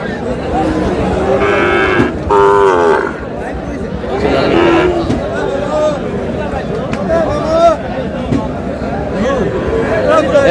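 A Sahiwal bull calf moos loudly and repeatedly at a busy cattle market in Noakhali, Bangladesh, over constant crowd chatter and bargaining voices close by.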